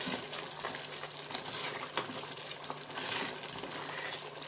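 Green rice being stirred in a pot with broth and a dissolved stock cube, a steady wet swishing and faint bubbling texture throughout, with occasional soft scrapes and clinks of the spoon against the pot, no talking.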